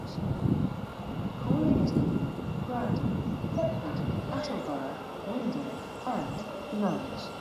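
A Thameslink Class 700 electric train pulls into the platform at Cambridge North station, a low, broad rumble with faint squealing tones and brake sounds, heard from nearby and fairly steady in level.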